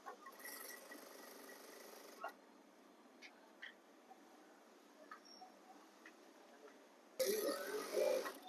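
A sewing machine stitching an embroidered partywear dress, faint and intermittent at first, then a louder rapid whirring burst near the end.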